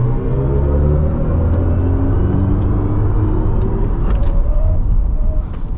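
A 2024 BMW i5 M60 electric car accelerates hard in boost mode, heard from inside the cabin as a loud low rumble of road noise layered with rising electric motor whine tones.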